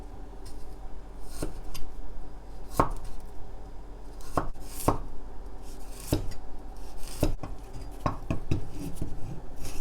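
Ginger being finely chopped with a knife on a board, a series of sharp, distinct knife strikes at an uneven pace, close and clear, with light scraping between cuts and no talk.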